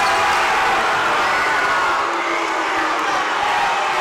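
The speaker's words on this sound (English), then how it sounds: "A vocal crowd here tonight, huh?" Vocal crowd cheering at a high school boys basketball game, a steady roar of shouts and whoops filling the gym throughout, loud and continuous without pause.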